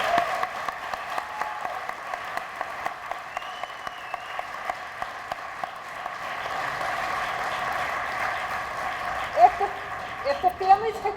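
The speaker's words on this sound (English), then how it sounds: "let's do another round of applause for our inductees" Applause at a hall of fame induction celebration, clapping from a gathered audience that stays fairly soft and distant, with sharper individual claps and rising crowd murmur and voices toward the end.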